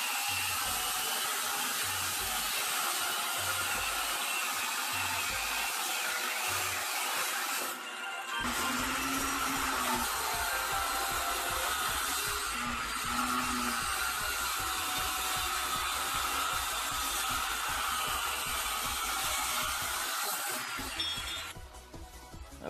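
A power tool grinds and cuts near the rear axle housing of an AE86 Corolla SR5 during a GM 7.625 rear end swap, a loud continuous whining roar with shifting tone, stopping briefly before resuming.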